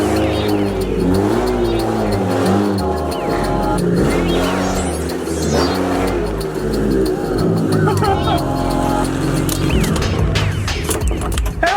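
A car with a 1JZ engine doing burnouts, loud and close, with a rough engine note rising and falling through repeated revs under constant tire and exhaust roar, while people talk and shout nearby.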